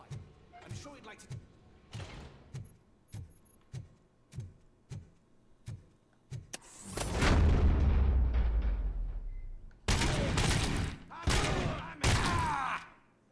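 Gunfire and explosions in the RoboCop Rogue City video game: a steady string of sharp single shots, then a long roaring blast and several more heavy booming bursts, loud and close.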